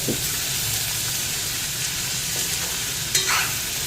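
Cabbage stir-fried in a pan makes a constant close sizzle, with a few light scrapes and clinks from stirring near the end, and no one speaking.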